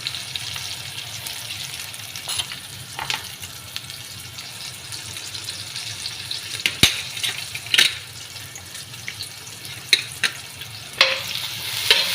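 Onion pieces frying with a pounded ginger-onion paste for a mutton rice dish, a soft continuous sizzle broken by occasional scraping stirs and clinks, with no voices.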